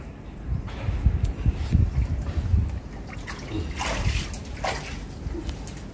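Water leaking and draining from a fish tank, a steady trickling and splashing flow with soft sloshing, close by and moderately loud, with faint voices in the background.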